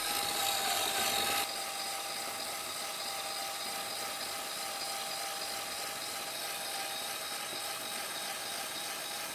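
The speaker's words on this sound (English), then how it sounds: "I'm going to use my Ryobi power scrubber again, spin the wheel and lay on some colour" A Ryobi power scrubber spins a car wheel while colour is applied, giving a steady, continuous whirring drone that holds level throughout with a slightly louder start.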